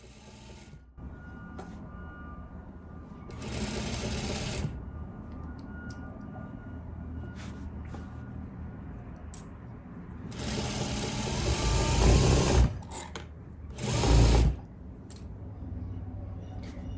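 Sewing machine stitching a narrow baby rolled hem with fabric guided along the inner edge of the presser foot, a close mechanical hum that runs steadily and swells in a few louder bursts.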